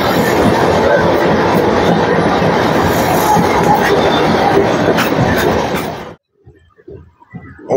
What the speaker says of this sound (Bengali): Howrah new Jalpaiguri Vande Bharat express.